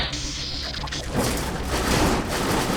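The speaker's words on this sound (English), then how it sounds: "Oh, that's a sentry gun." A sentry gun in the action game Carrion fires in a dense, loud burst of rapid shots that crash over a rumbling background for about two seconds.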